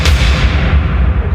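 A single loud gunshot sound effect bursts at the start and rolls into a long, heavy booming decay that fills the remainder, with no voices present.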